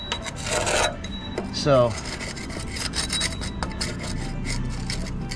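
Hand rubbing barnacles and calcium off the hull of an inflatable boat, a close rasping scrape repeated in short strokes, with a brief squeak and a single spoken word.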